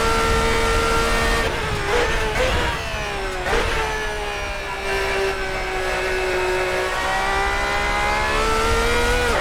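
Race car from the Assetto Corsa classic endurance mod, its engine roaring loud and close at high revs with several quick lifts and downshift dips before pulling steadily again, with no talk.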